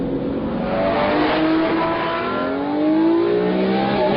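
A Lamborghini Murcielago engine revs hard as the throttle is opened, with rising harmonic sweeps climbing and falling. The sound is loud, close and continuous, with no speech.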